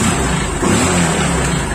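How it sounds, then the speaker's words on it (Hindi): Bajaj Discover motorcycle engine running right after a CDI replacement, a loud, close, continuous mid-pitched idle with a slight rev, heard alone. "फाइनली हमारा गाड़ी स्टार्ट हो चुका है बढ़िया से"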